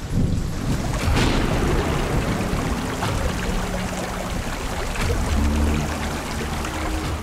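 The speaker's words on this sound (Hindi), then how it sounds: "बहुत तेज बादल फट रहा है, और अगर इसी तरीके से बारिश होती रही" Heavy rain pours steadily with a dense roar during a cloudburst, heard from inside a cave, while low thunder rumbles intermittently beneath it.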